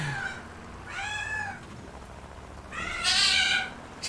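A cat meows three times, the calls drawn-out and tonal, with a quiet gap between them. The last call is the loudest and highest, and all three sound close with little else around them.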